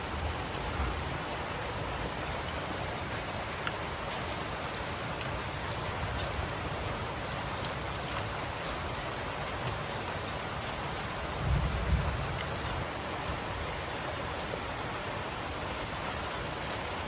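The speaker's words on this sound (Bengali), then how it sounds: "এতটাই বৃষ্টি হচ্ছে।" Heavy monsoon rain pours down in a dense, even hiss, with a brief low rumble near the middle, steady and unbroken, with no one speaking.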